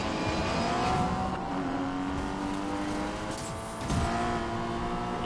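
A Porsche GT4 races with a nitro boost in Need for Speed Payback, its engine droning steadily and loudly with rising and falling revs, a brief surge near the end, and no voices over it.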